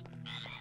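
A single short frog croak, a low buzzing throaty call that is faint and close, heard alone in a cartoon setting.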